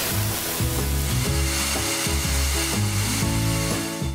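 A hot cast bronze piece being cooled, giving a loud, steady sizzling hiss over a low, repeating rhythmic hum, close and with no voices.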